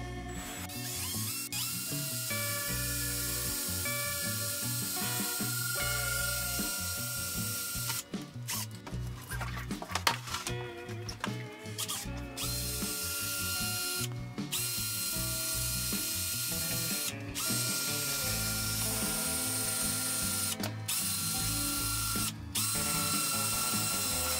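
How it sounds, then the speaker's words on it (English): A power drill drilling holes into the sides of a poster frame whirs continuously and loudly at close range, its grinding mechanical tone holding steady with a few brief pauses and catches. "Now I have to drill 2 holes on the sides where I marked."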